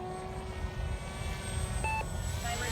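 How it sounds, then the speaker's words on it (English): A Kopaqi 950mm FPV delta-wing RC plane cruises overhead with a steady electric motor and propeller whine, droning continuously at moderate distance with a few tonal pitch shifts. "So we're just gonna do a nice cruising flight, mild aerobatics."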